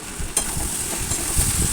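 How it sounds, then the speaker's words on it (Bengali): Watermelon rind curry with sugar stirred in a pan, with a steady close sizzle and soft scraping strokes, starting with a sharp scrape and continuing evenly for under two seconds. "চিনি দিয়ে আরও 2 মিনিট একটু নাড়াচাড়া করে নিলাম।"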